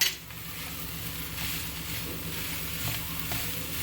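Chicken egg fried rice stir-fried on high flame, a soft steady sizzle with faint stirring and tossing sounds, fairly quiet and even.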